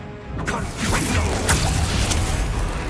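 Spell blasts from a fire-based Confringo curse in the game Hogwarts Legacy, a series of loud bursts and crashes over busy combat noise, with talk mixed in.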